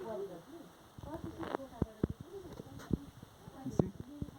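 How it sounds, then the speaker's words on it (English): Morning birdsong in a jungle setting around a house in nature, soft cooing and chirping calls scattered over several seconds with occasional sharp clicks and knocks nearby, fairly faint. "in the morning you can hear the birds chirping,"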